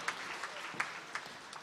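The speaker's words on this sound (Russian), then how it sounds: "Аплодисменты Сергею" Audience at a regional music festival in Yaroslavl applauds a performer on the Russian shepherd's horn, a brief spell of steady clapping with a few sharper claps, heard at moderate volume.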